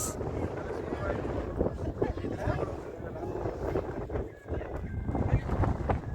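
Strong gusting wind on the Mullayanagiri hilltop buffets the microphone in a continuous rumbling roar, with voices speaking faintly beneath it.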